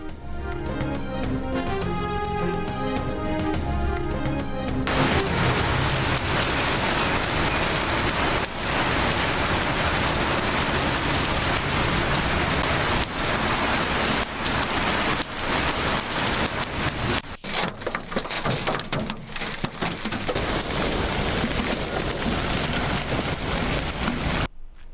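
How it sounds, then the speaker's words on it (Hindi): Heavy rain pours down in Lahore as a loud, dense, continuous hiss, steady throughout, with the sound briefly changing character partway through and no voices. "लाहौर में बादल खुलकर बरसे।"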